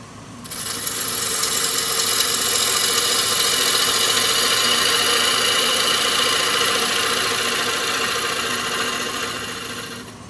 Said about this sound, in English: now I'm gonna do another planing cut, but I'm not gonna quite go down to this tenon on the top